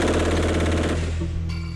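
A rapid burst of automatic rifle fire, shots running together in a fast, loud rattle that cuts off after about a second.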